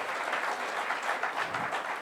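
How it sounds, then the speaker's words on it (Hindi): Audience clapping during a televised political debate, steady and fairly even crackle for two seconds with no voices over it. "तालियां हो जाए भाई"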